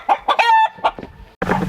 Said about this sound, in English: Excuse me, the rooster's being kind of noisy.